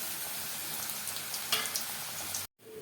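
Chicken lollipops, five pieces, frying in hot oil with a steady sizzle that briefly cuts out near the end before resuming.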